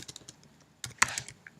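Rapid keystrokes on a computer keyboard, a quick run of close, crisp clicks with a louder cluster near the end, with no talk.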